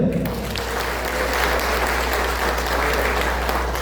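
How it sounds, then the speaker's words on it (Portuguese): An audience at a lecture in a cultural centre breaks into steady, sustained clapping, a dense even applause that continues throughout at moderate loudness. "palmas para ele."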